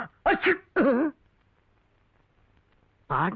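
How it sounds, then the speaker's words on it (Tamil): A woman's sneeze in a short, loud burst of two to three voiced bursts close to the mic, followed by a quiet pause and another voiced sound at the end. "தும்முனது பொம்பளை குரல்"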